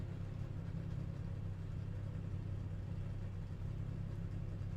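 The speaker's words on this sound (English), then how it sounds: "You can hear how just damaged that car is." A damaged ARCA race car at Phoenix Raceway gives a steady, loud, low engine rumble that fills the clip, with no voices over it.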